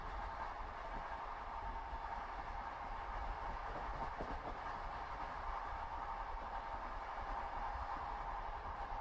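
A night train rolls on in a steady, soft rumble, with a continuous broad wash of wheel and carriage noise holding even throughout and no distinct clacks standing out.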